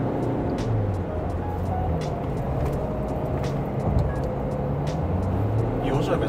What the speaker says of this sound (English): And here we go, accelerating a bit.